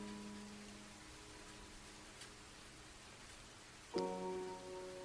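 November rain patters faintly as a low, steady wash, with a few brief brighter taps and a tonal hum that swells near the end.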